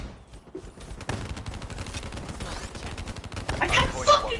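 Gunfire in a multiplayer shooter crackles as a dense rapid fusillade, steady and moderately loud, swelling near the end with mixed game effects.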